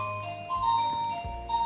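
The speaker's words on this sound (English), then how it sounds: "that's my doorbell." A doorbell chimes in a home, a few clear ringing tones that ring out and fade against a quiet background.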